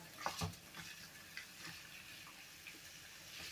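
Low, steady crackle of cabbage frying in a pan over a gas burner on full flame, with a few soft clicks and scrapes near the start and no voices.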